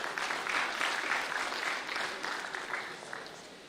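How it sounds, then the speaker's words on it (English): Audience applause at an official launch event for a 60th anniversary logo, many hands clapping steadily, loud at first and slowly tapering off toward the end. "Please give yourselves a round of applause."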